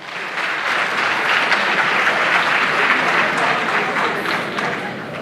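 A school audience at a national science and maths quiz contest breaks into sustained, dense applause and cheering that swells and holds for several seconds.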